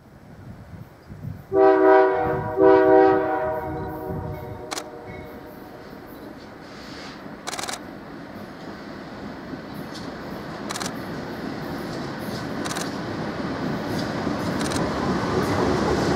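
Short westbound freight train A451 near the Newberry Road overpass sounds two strong horn blasts, then rumbles past steadily with clanking wheels, loud and close.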